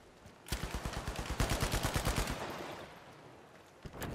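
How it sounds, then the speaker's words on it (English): Rapid bursts of gunfire in the first-person shooter game The Finals, a run of loud sharp shots in quick succession that stops, followed by quiet decay and one more shot near the end. "Orange is sniping"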